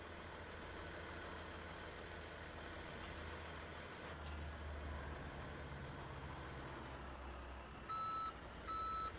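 A new F750 wrecker tow truck backing in, its engine idling low and steady nearby, with a pair of sharp reversing beeps toward the end, no talk.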